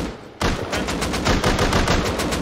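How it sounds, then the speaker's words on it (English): Rapid automatic gunfire from an AK and a Python revolver in an online video game, loud dense bursts of shots starting abruptly after a short quiet lead-in and continuing steadily. "Okay, so I'll shoot the AK after you shoot your python?"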